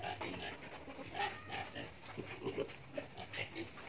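Pigs and piglets on a farm grunt and snuffle in a steady scatter of short, low calls, fairly close but quiet, with no talk.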